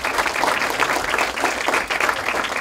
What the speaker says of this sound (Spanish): vamos a pedir un aplauso para los ponentes de hoy